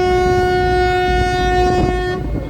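A loud, sustained horn blast sounds aboard the Beşiktaş–Kadıköy ferry on the Bosphorus in Istanbul. It is a steady harmonic tone held for about two seconds before it cuts off, over low engine and water rumble.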